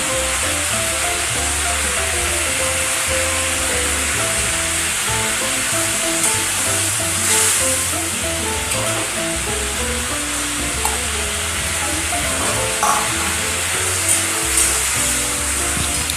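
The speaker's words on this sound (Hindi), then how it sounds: "और देखिए हमने यहाँ सारे मछलियाँ को डाल दिए। अब हम इसको 1 मिनट तक पकाएंगे ग्रेवी में।" Small fish added to simmering curry gravy give off a loud, steady sizzle and bubbling close by, with soft stirring scrapes and no talk.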